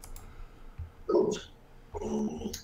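A dog gives two short bursts of barking or growling close by, separated by a pause, against a quiet indoor background.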